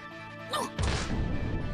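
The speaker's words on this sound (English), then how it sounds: "arm grabbed the back of the witch's head and smashed her face into the table" In a visual novel game, a face is slammed into a table: a short whooshing movement is followed by a sudden loud crash that rings out and fades under steady background music.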